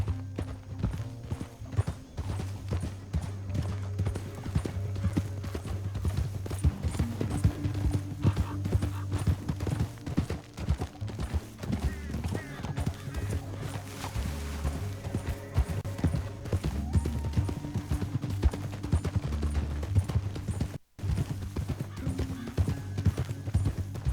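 Horses' hooves clip-clop in a steady galloping rhythm throughout a Red Dead Redemption 2 canyon ride, loud and continuous over a low musical score, with an occasional whinny.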